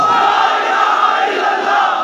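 Massed rally crowd shouting back in unison in response to a slogan, a loud, sustained roar of many voices close by that fills the whole moment without letup.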